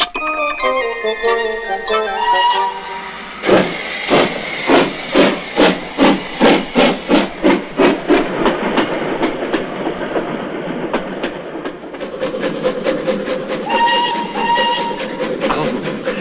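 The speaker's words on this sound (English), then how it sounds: "I could swear another train is following us." A steam train chugs past with rhythmic puffs and clattering wheels, steam hissing, the beats speeding up then fading into a steady rumble.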